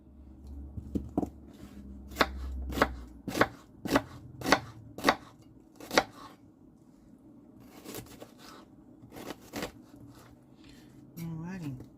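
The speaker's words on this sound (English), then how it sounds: "So I have them on my cutting board. And we're going to cut this whole thing up." Knife chopping onions on a cutting board for French onion soup: a run of about a dozen sharp, close chops in an uneven rhythm, some quick and some spaced apart, with brief pauses and a faint voice near the end.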